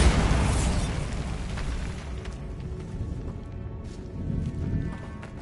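A Bombarda explosion spell in the video game Hogwarts Legacy bursts with a loud, booming blast that rolls off into a rumbling decay, followed by a lower, swelling rumble.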